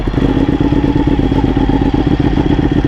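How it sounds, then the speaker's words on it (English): A Ducati 1199 Panigale motorcycle with about 30,000 miles on it idles right after a cold start. The engine throbs loud and close in a heavy, lumpy rhythm with mechanical clatter and no voices over it. "But let's go ahead and get this cold start."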